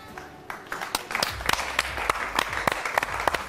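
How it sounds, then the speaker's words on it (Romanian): An audience claps for a group of girls on a Romanian talent-show stage, a brief burst of scattered, uneven hand claps at close range, with a few sharp individual claps standing out. "Aplauze pentru fete, mulțumesc!"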